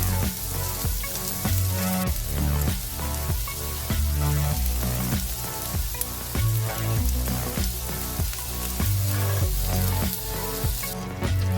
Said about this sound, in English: Cook until the peppers and onions are tender.